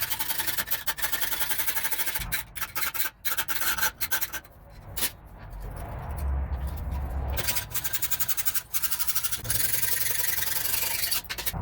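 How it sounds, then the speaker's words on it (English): A regular hacksaw cuts small corners off metal patch panels for a Chevy truck repair, producing rapid, rasping back-and-forth strokes close up, with a brief pause partway before the sawing resumes. "I'm just gonna use the regular hacksaw"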